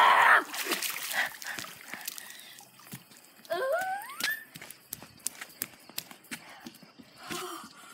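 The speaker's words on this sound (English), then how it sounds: "the next clip will be me jumping in" A person plunges into cold 50-degree pool water, a sharp splash near the start followed by dripping, sloshing and scattered knocks as the water settles, with no talking.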